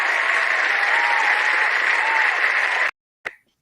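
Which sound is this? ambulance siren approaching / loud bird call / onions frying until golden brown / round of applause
round of applause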